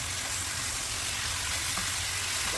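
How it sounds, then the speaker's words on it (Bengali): Malabar spinach going into a pan of frying spice paste for a pabda fish curry, giving a steady, close, hissing sizzle with faint stirring and no talk. "এখন আমি শাকগুলি দিয়ে দেবো একটু একটু করে।"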